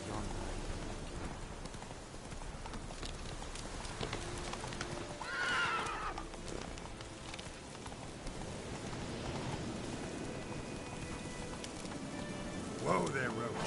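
Roach, a horse in The Witcher game, neighs in a bright whinny midway and again near the end over soft trotting hoof clops and light rain, fairly faint overall.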